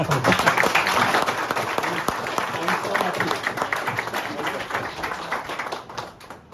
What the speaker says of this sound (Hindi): एक बार फिर से एक बार तालियां